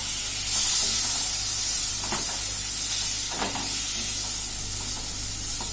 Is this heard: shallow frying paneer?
yes